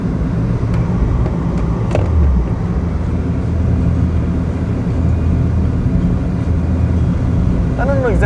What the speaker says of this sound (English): the AC's fan is on maximum